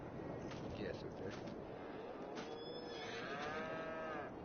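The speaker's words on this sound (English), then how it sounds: "Y'all are the old cows, aren't you?" Cows moo in the farming game Farmmit Inc. on PS4, a few long, drawn-out moos overlapping one another at steady volume over a constant digital backdrop.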